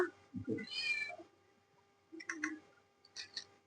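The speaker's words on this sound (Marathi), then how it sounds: "आमची मांजर मनू मनू ना मध्ये मध्ये येत आहे का" A cat meows a few times in a kitchen, short and close, in separate bursts with pauses between them.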